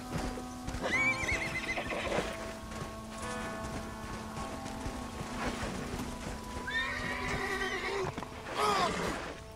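A horse in the Red Dead Redemption video game whinnies repeatedly in shrill bursts over clip-clopping hooves, moderately loud and close, with faint background game ambience.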